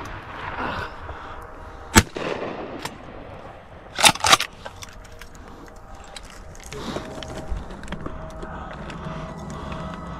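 Shotgun blasts ring out while duck hunting in Texas marshland, one sharp shot followed by a quick close pair, then quieter outdoor rustle.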